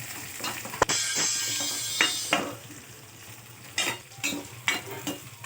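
Green chillies, dried red chillies and curry leaves sautéing in hot oil with popped mustard seeds and cumin for a sambar, a steady close sizzle broken by scraping stirs and a sharp clank of the spoon.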